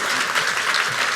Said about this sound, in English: can we give a big round of applause to the organizers?